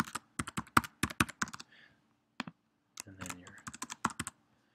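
A password is typed on a computer keyboard as a quick run of crisp, close keystrokes in irregular bursts, a short pause, then another flurry of taps over a faint hum, with no talking.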